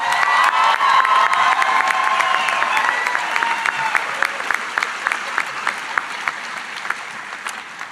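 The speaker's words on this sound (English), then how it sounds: "Please join me and give a round of applause for the countless efforts for our faculty and staff." A commencement audience at a pharmacy college ceremony breaks into applause and cheering, a loud burst of clapping and shouts that gradually thins out into scattered individual claps.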